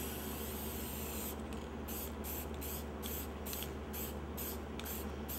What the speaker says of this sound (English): give them a shake, spray them off to the side